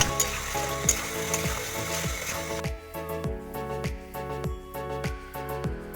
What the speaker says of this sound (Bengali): আর দেখো চিকেনটাকে আমি ভালো করে ভেজে নিচ্ছি